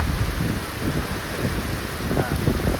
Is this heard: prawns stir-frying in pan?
no